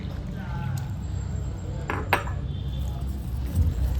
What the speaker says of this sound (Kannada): ಸ್ವಲ್ಪನೇ ನೀರು ಹಾಕ್ಕೊಂಡು ಚೆನ್ನಾಗಿ ಮಿಕ್ಸ್ ಮಾಡ್ಕೊಳ್ಳೋಣ.